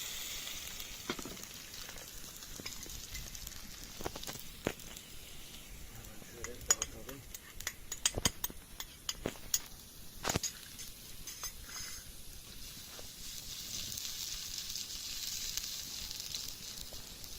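Peppers frying in hot oil in an outdoor holiday kitchen in Assos, giving a steady sizzle with scattered sharp crackles and pops, while people talk now and then over it.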